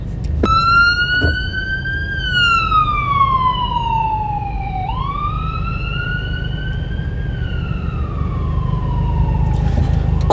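An ambulance siren wails through traffic, a clear rising and falling tone that sweeps up and down over about ten seconds above a steady bed of road noise, fairly close but not overpowering.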